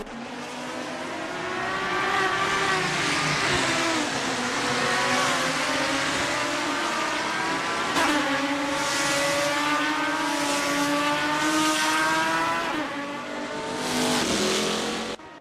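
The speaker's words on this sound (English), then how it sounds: "This is brilliant wheel-to-wheel racing." GT race cars lapping Spa in the Assetto Corsa racing game, several engines droning and revving together in a dense, continuous pack with rising and falling pitch through gear changes, loud and steady throughout with no talk.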